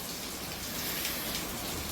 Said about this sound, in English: it's rain, it's wind,